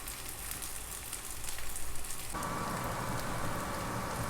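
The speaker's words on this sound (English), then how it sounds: "Meanwhile, on high flame, my banana slices are getting roasted." Raw banana slices roast on high flame beside cubed potatoes in a pan, giving a faint, continuous crackling sizzle that grows denser and louder about halfway through.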